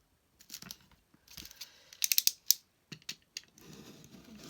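A big craft knife trims through several layers of paper for a 3-D pop-up junk journal page, giving short scraping and ticking strokes in separate bursts, a few sharper clicks in the middle, close and fairly quiet.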